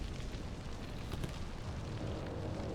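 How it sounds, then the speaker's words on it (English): Grenade blast in the turn-based strategy game XCOM 2, a dense, sustained rumbling roar that fills the whole moment with steady loudness and no talk over it. "This is pretty much a guaranteed kill if we land the grenade"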